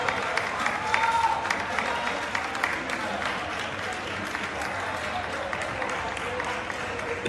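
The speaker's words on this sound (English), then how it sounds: "The clapping that you're hearing is from local residents who have been too scared to go into their own streets." Local residents clap together out in the street, a continuous crowd applause with scattered cheers and voices, heard at a moderate distance and steady in loudness throughout.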